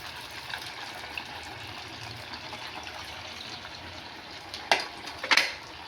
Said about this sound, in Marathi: तळून घेऊया मला कढईला एका वेळेस तीन ते चार साबुदाना वडे टाकायचे आहे